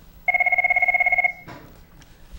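A telephone rings in a TV studio with one long trilling electronic burst of rapid pulses lasting about a second, followed by quiet room sound.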